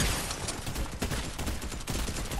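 Dense, loud gunfire from the video game Fortnite, a continuous rattle of rapid shots filling the whole moment with no voices over it.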